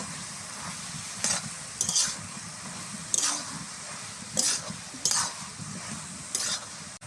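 Gourd and prawns sautéing with chili powder and ginger paste, a steady close sizzle under repeated scraping stir strokes against the pan at roughly one-second intervals.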